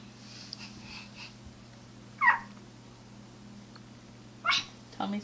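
A cat gives two short meows, a couple of seconds apart, close by in an otherwise quiet room with a faint hum.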